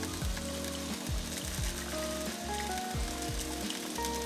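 Red-eye gravy sizzling as coffee is added to bacon fat, a steady loud crackling fry with a soft bubbling, heard alone without talk.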